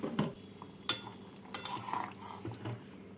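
Fish curry stirred with water in a pan, a quiet bubbling simmer with scattered spatula scrapes and light clinks of metal on the pan.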